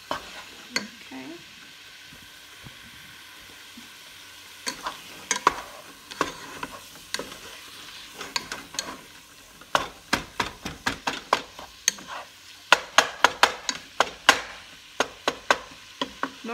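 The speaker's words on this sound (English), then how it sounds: "I'm turning the heat up to cook the meat faster." Ground meat for spaghetti sauce fries over high heat in a pan, a steady sizzle broken by irregular scraping and stirring knocks that grow denser and louder toward the end.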